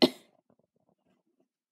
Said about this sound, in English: No wonder you're coughing